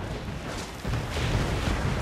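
Ship cannons firing in the Assassin's Creed 4 Black Flag video game: rumbling, booming blasts that swell louder after the first moment into a sustained, heavy roar of broadside fire.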